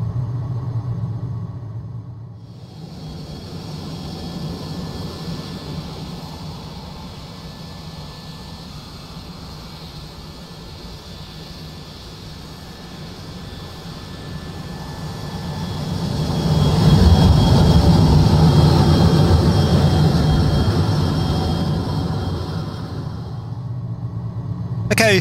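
Cessna 510 Mustang jet taxiing in Microsoft Flight Simulator, a steady whining engine drone with broad low rumble that swells louder about two-thirds through before easing back, heard alone without talk.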